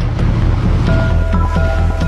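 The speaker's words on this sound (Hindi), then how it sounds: "समंदर शांत दिखता है, लेकिन साइक्लोनिक विंड्स 1 मीटर ऊंची लहरें उठाकर ऑपरेशंस में रुकावट डाल सकती हैं।" Sea waves at Sir Creek on the Arabian Sea, a loud, continuous rushing wash of surf mixed with wind buffeting, with no speech.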